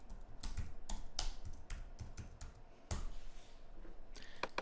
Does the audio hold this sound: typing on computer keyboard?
yes